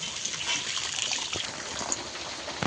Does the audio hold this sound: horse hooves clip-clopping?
no